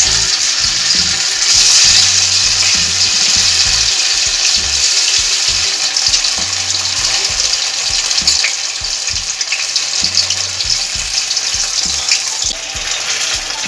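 Cornflour-coated paneer cubes fry in hot oil with a steady, dense sizzle that keeps going, broken by occasional low stirring bumps and scrapes in a home kitchen.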